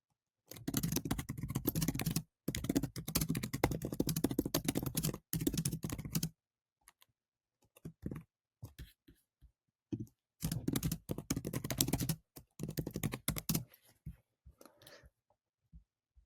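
Keys on a computer keyboard clatter in rapid bursts as a property address is typed. Dense runs of keystrokes alternate with quiet pauses and scattered single taps, close and fairly soft, with no talk.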